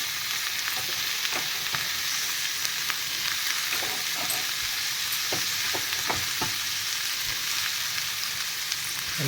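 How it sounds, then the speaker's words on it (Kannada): Chopped vegetables sizzle steadily in a hot pan for fried rice, with a constant crackling hiss broken by occasional clinks and scrapes of a spoon stirring, close and fairly loud, no voices. "ಎಲ್ಲ ತರಕಾರಿ ಹಾಕಿ ಎಲ್ಲನೂ ಲೋ ಫ್ಲೇಮಲ್ಲಿ ಬೆನ್ಸ್ಕೋಬೇಕು ನೀವು."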